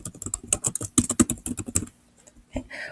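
Rapid clicking of computer keyboard keys, a dense burst of typing for about two seconds, then a pause and a few scattered keystrokes, close and alone.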